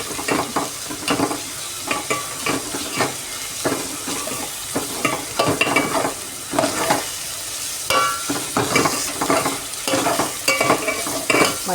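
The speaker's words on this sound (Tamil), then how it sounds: "அதை வதக்கினே இருக்கும்." Minced mutton keema with chili powder, turmeric and salt sizzles and fries in a pan, stirred in repeated scraping strokes, loud and close without any talk.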